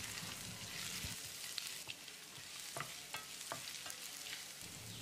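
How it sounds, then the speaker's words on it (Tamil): Chopped ginger, four inch-long pieces cut fine, sautéing in hot oil in a pan for a chutney, with a steady low sizzle and a few scattered stirring clinks and scrapes throughout. "1 இன்ச் அளவுக்கு 4 துண்டு இஞ்சியை பொடியாக கட் பண்ணி போட்டுடலாம். ஒரு 10 செகண்ட் இதை வதக்கிடலாம்."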